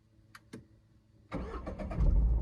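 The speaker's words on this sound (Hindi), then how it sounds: "गाड़ी स्टार्ट हो गई।" A car engine starts up after a couple of faint clicks: the starter cranks briefly, then the motor catches and settles into a loud, steady idle close by, with no talking.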